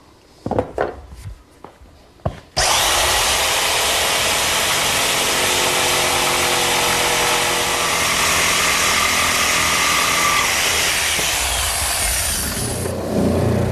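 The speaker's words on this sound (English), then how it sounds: "I'm going to actually just use a handheld jigsaw to make the cut." A handheld jigsaw saws through a wooden panel, with a few short handling knocks before it starts, then a loud, continuous buzzing cut that runs steadily for about eleven seconds before stopping.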